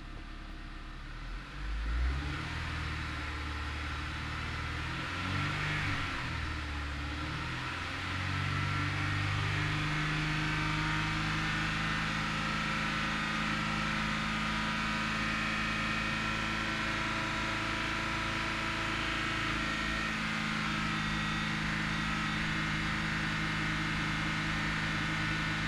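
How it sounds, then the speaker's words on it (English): A 2004 Honda Civic Si with a 2.0L engine and manual transmission, diagnosed for a P0011 cam timing fault, idles steadily and then climbs into a sustained higher-RPM hum, loud and close with no talking. "And now it wants us to bring the engine RPMs up."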